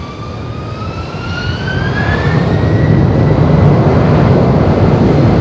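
A fixed-wing aircraft takes off from runway 05 at windy Madeira Island Airport, its jet roar swelling from a rising whine into a loud, broad rumble over several seconds, no talk.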